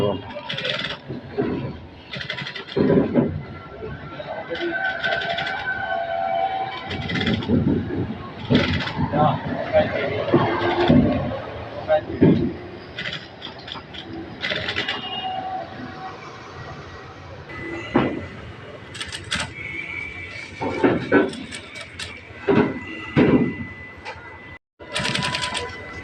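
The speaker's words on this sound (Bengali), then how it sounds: "সামনের পিছে দিয়ে জয়েন মানে সেলাই করে নেওয়া হচ্ছে।" An electric sewing machine stitching the front and back panels of a headrest cover for a Toyota Axio car seat, running in short mechanical rattling bursts with pauses, while a person talks over the work.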